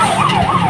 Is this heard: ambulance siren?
yes